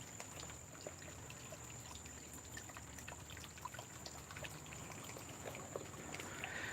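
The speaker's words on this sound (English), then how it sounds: "all you want to hear is a ripple of some water, right? Over by the pond." Water trickles softly in a 700-gallon backyard pond, a faint, steady outdoor ripple running continuously without pause.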